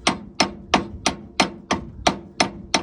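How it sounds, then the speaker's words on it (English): A hammer taps a steering column bolt loose on a 1964 Chevrolet Impala, nine sharp metallic strikes falling at an even rhythm about a third of a second apart, close and clear with each ring decaying quickly, no voices. "now I am just starting to tap that back off"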